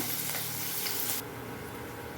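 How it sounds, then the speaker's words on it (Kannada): Mustard seeds, cumin, curry leaves, green and red chillies hitting hot oil for a tempering, a loud bright sizzle that drops sharply to a quieter steady crackle partway through. "ಆಮೇಲೆ ಇದು ಮೆಣಸಿನ್ಕಾಯಿ ಹಾಕ್ತಾಯಿದ್ದೀನಿ, ಕರಿಬೇವು, ಹಸಿಮೆಣಸಿನ್ಕಾಯಿ, ಕರಿಬೇವು, ಸಾಸಿವೆ, ಜೀರಿಗೆ ಒಗ್ಗರಣೆ"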